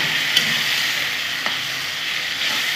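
A paste of ground mustard, poppy seed and green chili frying in a pan gives off a steady, hissing sizzle, close and even, with a couple of faint ticks and no voices.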